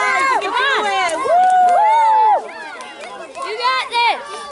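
Children shout and cheer others on during an old-style playground game, with high excited voices whooping and calling out in overlapping bursts, close and loud throughout.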